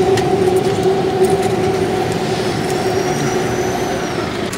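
A metro train runs overhead above busy Bangalore street traffic, making a loud, steady rumble with sustained tonal whine and a faint rising squeal, droning continuously and fading slightly toward the end.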